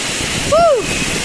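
Steady rushing water at Kebo Waterfall in the rain forms a broad, close hiss, with a brief tonal whistle-like sound rising and falling in the middle of the short stretch.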